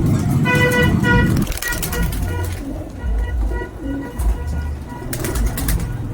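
Outdoor ambience at a pigeon market with a steady hum of voices and noise, and pigeons cooing intermittently in the background.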